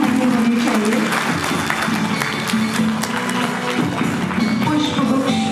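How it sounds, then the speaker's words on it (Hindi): An audience at a spiritual gathering on the Gita in Ahmedgarh, Ludhiana, applauding, a dense continuous wash of clapping held at steady loudness for several seconds, with faint voices mixed in. "तालियों की गड़गड़ाहट आपकी कम नहीं होनी चाहिए।"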